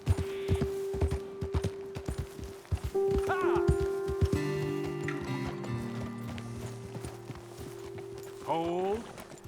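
Horses in Red Dead Redemption 2 clopping hooves at a walk on a road, a steady tonal hum underneath and a short whinny near the end.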